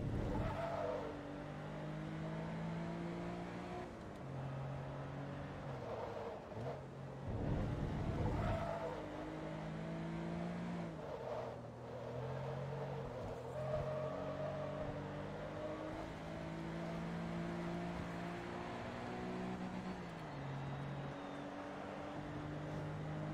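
Race car engines roar in the Forza Motorsport 2 video game during a Porsche Sports Car Club 350HP invitational, a continuous loud engine drone with rising and falling revs through gear shifts across the whole stretch.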